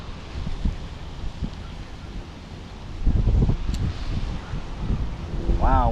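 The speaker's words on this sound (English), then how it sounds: "Wow, wind's picking up too." Wind gusting across a pond while someone fly fishes, a constant rough rushing that swells stronger partway through, with scattered low buffeting thumps against the microphone.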